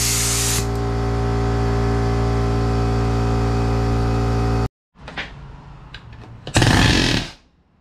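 A Ridgid palm nailer runs as a loud, steady buzzing hammer for several seconds, then stops; a few short impacts and a louder burst follow, close up with no talking.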